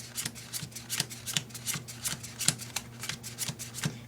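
Playing cards are dealt one by one onto a pile, a steady rhythm of soft, close flicking slaps about every half second over a faint background hum.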